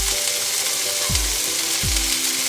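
Two cloves of garlic fry in a pan with a steady close sizzle, broken by a few low thumps or taps as the pan or utensil is moved.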